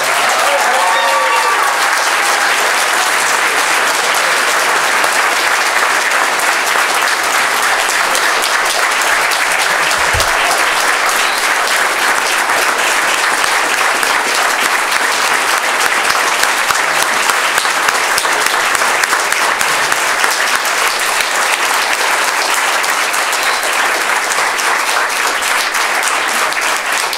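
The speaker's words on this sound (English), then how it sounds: "Give them a round of applause." A large audience at a university town hall gives a sustained round of applause, a dense steady roar of clapping with crowd noise lasting the whole stretch, loud and continuous without breaks.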